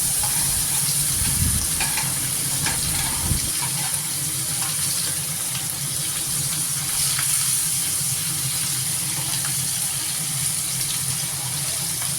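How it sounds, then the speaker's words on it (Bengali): Pomfret fish fry in hot oil in a pan, giving a steady, loud sizzle throughout with a few low thumps near the start. "যে মাছগুলো বাকি আছে সেইগুলো আমি এইভাবেই ভেজে নেব।"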